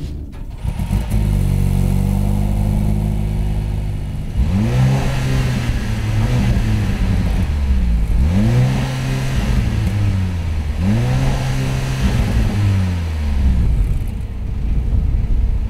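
A Mercedes C43 AMG engine is revved hard in repeated bursts: three loud surges that climb and fall back, over a steady close idle rumble, with no talking.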